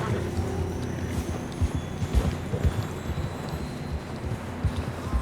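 Horse hooves clip-clop in Red Dead Redemption 2. The footfalls are soft and irregular, set in a snowy mountain scene under steady low ambient rumble, with no voices.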